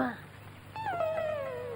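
A dog indoors in a house lets out a whimpering, wailing whine that slides downward and trails off, heard close after a brief voice at the start.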